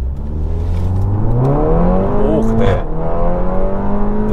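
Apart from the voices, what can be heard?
Audi TT 8S 2.0 TFSI Stage 1.5 accelerating from standstill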